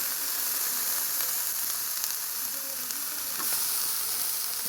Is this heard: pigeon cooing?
no